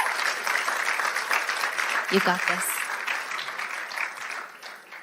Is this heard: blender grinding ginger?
no